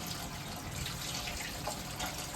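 Water drains off soaked sago during washing, a faint, steady trickle and splash that runs continuously in a quiet room.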